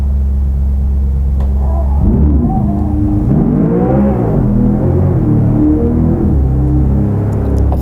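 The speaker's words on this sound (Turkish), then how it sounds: "Siz de gazlama yetilerini görün arabanın" Engine revving up and accelerating in a car driven in Euro Truck Simulator 2, a steady low rumble rising in pitch and loudness with sweeping tones, alone without talk.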